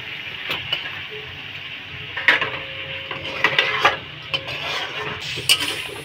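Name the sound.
stir-frying onion and spices in a pan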